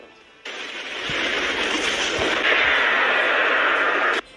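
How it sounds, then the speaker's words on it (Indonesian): A huge explosion roars through an animated battle, a loud sustained blast that rises into a long, rumbling hiss and then cuts off abruptly. "membuat ledakan yang sangat besar"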